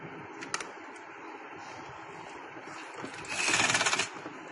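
A sewing machine stitches a trouser, letting out a short burst of fast mechanical whirring near the end. Before the burst there is a quiet background and a single small click.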